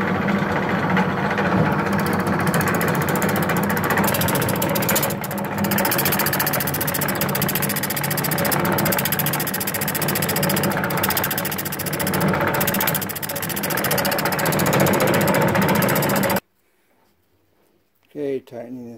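Wood lathe spinning while a goblet is turned, a steady loud mechanical whir with rattling vibration running continuously for about sixteen seconds, then cutting off abruptly before a person speaks briefly.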